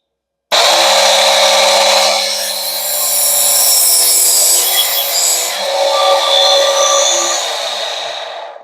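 A criss-cross blade for an oscillating multi-tool has its teeth sharpened, giving a loud, continuous close-up grinding rasp that runs for about eight seconds with slight shifts in tone before stopping.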